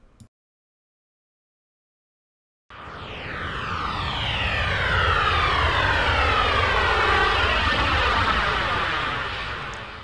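Engine of a Dreamfleet Boeing 727 (2004) add-on in Flight Simulator spooling up after a short silence into a loud, steady jet roar with sweeping tonal whine that holds alone to the end.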